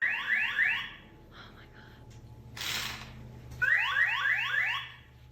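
A construction-style toy sets off an electronic alarm: repeated rising chirping bursts sound twice, separated by a short hissing burst, moderately loud against a low background hum.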